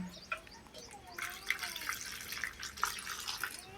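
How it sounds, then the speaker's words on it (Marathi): Water splashes and gurgles steadily into a pot of wild badda leaf greens for cooking, a continuous close pouring with faint chirps in the background. "त्यामध्ये आता शिजण्यासाठी पाणी टाकायचं आहे"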